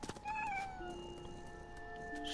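A cat in the video game What Remains of Edith Finch lets out a drawn-out, wavering meow, clear and close over a low continuous background tone.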